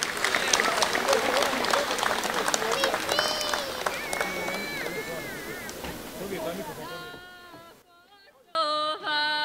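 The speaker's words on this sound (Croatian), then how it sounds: "jedan aplauz će im dobro doći kao podrška" Lively audience applause and crowd noise for performers at the Hercegovačko sijelo 2023 folk gathering, fading over several seconds as voices begin singing.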